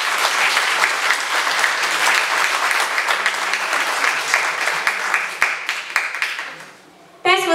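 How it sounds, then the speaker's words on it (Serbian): An audience applauds at the opening of a festival, a dense, steady wash of clapping that carries on for several seconds before thinning out and fading near the end. "Jedan aplauz za Čika Peđu."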